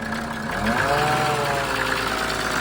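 A Mercedes OM603 diesel engine drives a PN-40 motor pump, running close and steady with a rough idle, its tone rising slightly as revs change.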